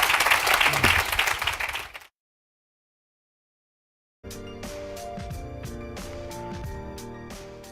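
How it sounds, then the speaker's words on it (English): Audience applause at a political event, a burst of dense clapping that cuts to silence, then returns with sparser claps under music and voices. "A round of applause."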